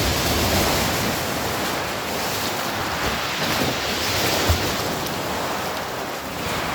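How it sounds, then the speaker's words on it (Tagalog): Strong sea waves crash and churn inside a beach cave at Butas-Butas Beach in Mauban, Quezon, at high tide, forming a loud, continuous wash of surf with wind buffeting the microphone and no talk. "At ang lakas ng alon."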